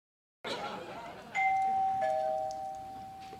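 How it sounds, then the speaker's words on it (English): A doorbell rings in a home, sounding two clear chime tones in succession that ring out and slowly fade, heard alone after a moment of silence. "The doorbell rings, and Frasier takes a seat, waiting for Daphne to answer it."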